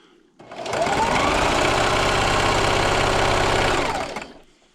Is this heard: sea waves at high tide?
no